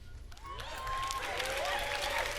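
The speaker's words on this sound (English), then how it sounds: "Pause for claps." Audience applause at the E3 2018 Bethesda showcase, a steady wash of clapping that swells and holds over a couple of seconds, with tonal music or effects layered on top.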